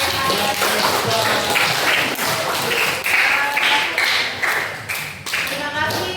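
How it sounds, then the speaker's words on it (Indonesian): Classroom of students clapping for a student group, a close, uneven patter of claps with some louder individual hand strikes throughout. "beri tepuk tangan untuk Rehat"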